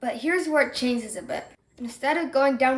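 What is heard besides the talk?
No distinct noise like a dog, phone or traffic.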